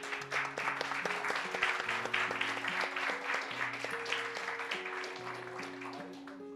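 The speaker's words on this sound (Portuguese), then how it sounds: "Para aplaudir o Senhor." Church congregation applauding during a worship service, steady clapping heard at moderate distance beneath sustained organ or keyboard tones.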